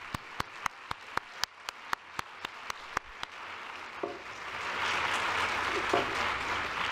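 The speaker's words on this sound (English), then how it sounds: "Please help me thank Bill and Stephanie with a round of applause." Audience applause at a university event welcoming a distinguished visiting professor: a series of sharp, evenly spaced claps gives way to a broad, sustained wash of clapping from a crowd that swells and holds steady.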